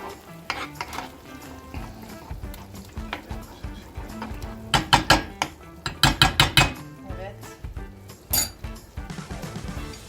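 Chicken wing seasoning of garlic powder and onion powder is stirred in a bowl, a spoon scraping and clinking in steady bursts that grow louder and busier midway, with faint background noise between strokes.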